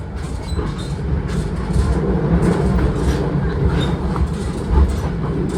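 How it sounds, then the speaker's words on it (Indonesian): A conventional passenger train runs along the track through West Priangan, heard from on board as a steady rumble with rhythmic clickety-clack of wheels over rail joints, fairly loud and continuous. "ini kereta kita rel konvensional"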